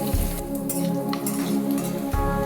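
Potatoes fry in mustard oil tempered with whole cumin seeds, giving a steady, fairly close hiss of oil that runs through without a break.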